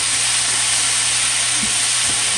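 Red potatoes and minced garlic stir-fry in a quarter teaspoon of oil, a loud continuous close sizzle with a few soft stirring knocks.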